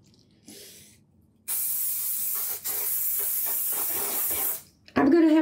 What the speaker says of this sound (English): I'm going to have to spray it.